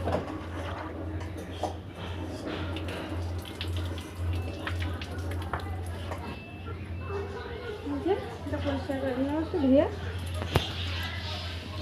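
Yardlong bean seeds are washed by hand in water, with splashing and swishing sounds that come and go while someone talks over them nearby.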